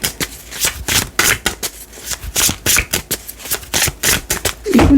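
Tarot cards shuffled by hand in quick, close riffling bursts that repeat steadily for several seconds with no talking.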